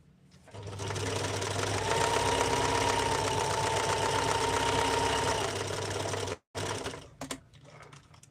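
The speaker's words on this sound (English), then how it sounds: "I like to sew from the corner in a little bit, and then from the other corner in a little bit" A sewing machine hums and chatters in one long continuous run, close and loud, sewing a seam in from the corner of a piece of fabric, then cuts out briefly and ends in lighter handling sounds.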